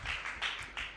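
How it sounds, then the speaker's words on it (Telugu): A church congregation claps at a sermon, producing a faint, brief burst of applause that swells in a few uneven waves. "చప్పట్లు కొట్టండి"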